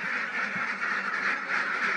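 Domestic ducks kept on a small homestead quack steadily in a continuous, overlapping chorus, moderately loud and close, with no speech over them.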